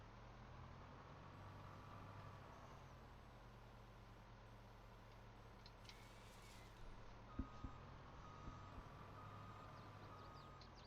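Logging truck backing up in Farming Simulator 22 on the Canyon Crossing map, steady repeating reversing beeps over a loud diesel engine rumble, with a few brief clanks near the end.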